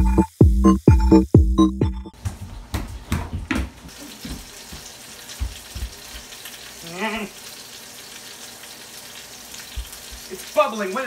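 Chicken fries and bubbles in a pan with steady sizzling and crackling, opening with a few loud clatters, and a short voice cuts in midway.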